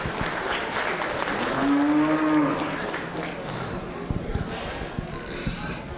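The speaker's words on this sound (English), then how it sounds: "Let's give both these young men a round of applause" An audience applauds young showmen at a junior livestock show, a cow lowing loudly over the clapping early on, then scattered claps and arena noise with voices.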